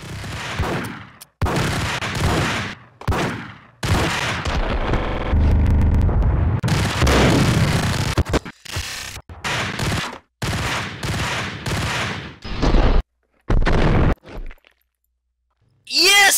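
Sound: gunfire in video game Max Payne

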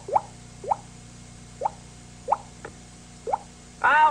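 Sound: faucet dripping in cartoon

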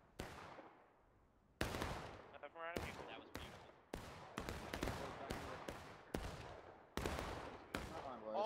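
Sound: musket gunfire from video game War of Rights

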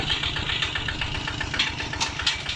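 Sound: Kubota ZT110DI Plus diesel engine running

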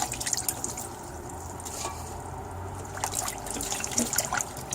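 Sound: rinsing wind-resistant herb (bangpung namul) in water

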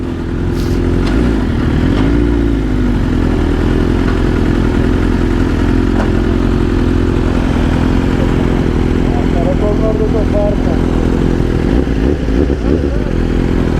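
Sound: motorcycle with new exhaust revving

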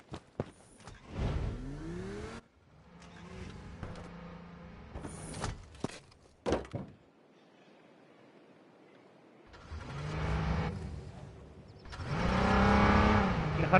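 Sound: car engine in the video game H1Z1

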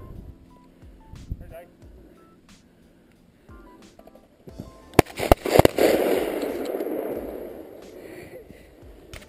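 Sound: shotgun shots during a snowy bird hunt

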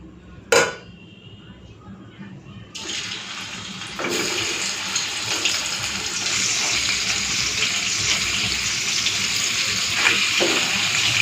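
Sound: paneer frying in pan

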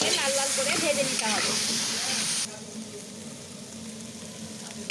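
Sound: potatoes frying in oil with salt and turmeric

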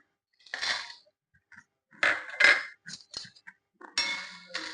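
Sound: dried turkey berries dropped into a pan for roasting

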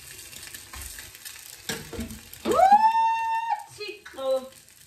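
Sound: egg frying in a pan

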